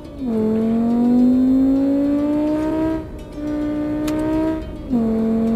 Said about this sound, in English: this one definitely is an inline 5, and you can just tell it sounds kind of